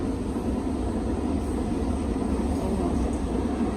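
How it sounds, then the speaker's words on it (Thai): A long freight train rolls past at Ban Na Khae in Vang Vieng, Laos, on an early morning, giving a steady, loud rumble with constant low-frequency roar throughout and no voices. "โอ้รถไฟ"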